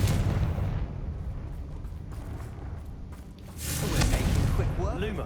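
Confringo blasting curse explosions in the video game Hogwarts Legacy, a whooshing burst followed by a louder booming blast near the end, over continuous game background noise.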